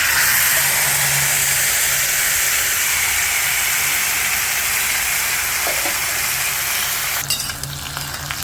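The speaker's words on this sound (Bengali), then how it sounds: "আমি এই চিকেনটাকে ভালো করে এর মধ্যে ঢেলে দেব" Marinated chicken goes into a pan of fried onions over a low flame for chicken curry, giving a steady, close, loud sizzle and hiss that runs throughout, with a brief burst of stirring scrape near the end and no talking.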